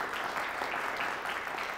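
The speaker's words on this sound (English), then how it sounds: "Nice round of applause for the Belvidere Bucks" Steady applause from an audience, a dense wash of clapping that stays at an even level throughout.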